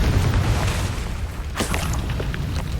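A Confringo spell blast in Hogwarts Legacy during a dragon fighting ring battle: a loud, sustained booming rumble fills the whole stretch, with a brief sharper burst midway, no talking.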